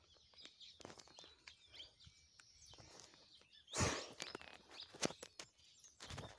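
Birds calling around farmland, faint and distant chirps and clucking scattered across the quiet, with one louder rustling burst midway and no talk.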